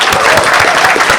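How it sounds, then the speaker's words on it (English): Audience applause at a game design lecture series event, a dense, steady clapping from a crowd filling the room for just over a second. "please join me in welcoming Jane Eng."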